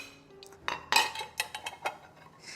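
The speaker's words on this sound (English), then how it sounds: "So we are going to drain them off into this bowl." Soaked dosa lentils are drained into a bowl, with a short run of clinks and knocks of a container against the bowl and a soft watery pour, close and fairly quiet.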